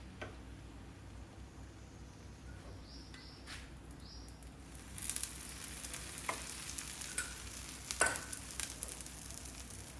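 Batter sizzles steadily on a hot griddle, a soft hiss that swells noticeably louder halfway through, with faint clinks and scrapes.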